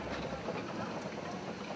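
A Swiss mountain rack train on the Jungfrau railway climbing through high alpine terrain, heard as a steady, close rumble and rail noise that holds evenly throughout without pauses.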